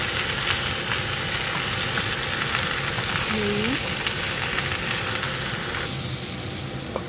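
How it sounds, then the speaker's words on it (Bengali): Mixed vegetables (carrot, pumpkin, potato, sweet potato) sizzle and crackle in hot oil in a pan, a steady, loud hiss that continues without break; a faint low hum sits underneath. "সব সবজিগুলো আমি ভালো করে ভেজে নিই।"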